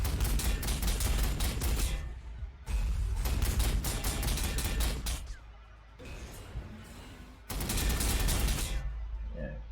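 Rapid gunfire bursts from a Warhammer 40,000: Sanctus Reach battle, dense volleys of shots and crackling impacts in loud clustered bursts with brief lulls between them, no speech over it.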